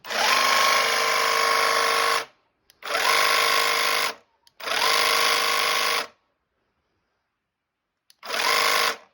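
A machine fitted with a newly made blade runs in four loud, steady bursts of a couple of seconds each, humming and buzzing up close, with short silences between starts.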